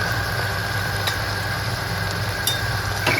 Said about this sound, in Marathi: असं टाकून मस्त परतून घ्यायचं मसाला, बघू शकता.